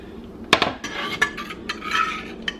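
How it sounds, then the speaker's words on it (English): A utensil stirs a garlic butter mixture in a bowl, giving close, sharp clinks and scrapes at an uneven pace over a couple of seconds. "Just stir it up."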